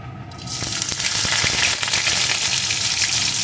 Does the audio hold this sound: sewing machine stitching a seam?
no